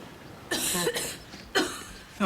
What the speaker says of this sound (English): I thought it was the lady coughing.